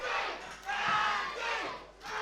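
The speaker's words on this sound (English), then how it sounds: "listen to this crowd get behind Andy Knox" A wrestling crowd in an arena roars and cheers in a loud, sustained swell of massed voices, rising and falling in waves.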